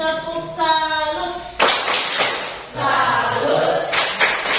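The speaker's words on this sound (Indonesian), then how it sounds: "Kita kasih tepuk salut dulu ya untuk kelompok 2" A group in a classroom doing a rhythmic 'tepuk salut' clap, with bursts of clapping in a patterned beat, loud and close, mixed with voices chanting along.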